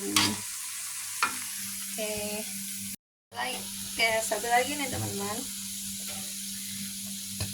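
Garlic frying in hot oil while being stirred, a steady hiss and crackle running on and off at close range, broken by a brief silent cut, with someone speaking over it.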